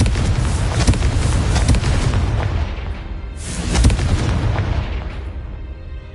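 Confringo fire spell explosions in Hogwarts Legacy boom heavily and continuously, with a renewed deep blast midway and a rolling rumble that tapers off at the end.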